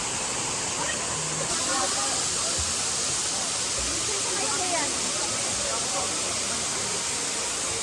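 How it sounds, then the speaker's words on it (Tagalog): Daranak Falls in Tanay, Rizal, a constant broadband roar of falling water filling the whole stretch, loud and unbroken, with faint voices buried underneath. "Daranac Falls guys."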